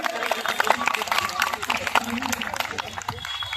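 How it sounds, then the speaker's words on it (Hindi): Sustained crowd clapping welcomes an honoree at an Independence Day celebration held by a Khatri community group, a dense steady patter that fills the whole stretch, with a voice over a loudspeaker talking through it. "आप जोरदार तालियों से स्वागत करें।"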